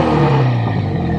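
A 1965 BSA Thunderbolt 650 motorcycle engine revs steadily at close range, a low throaty drone with slight rises in pitch and no voices.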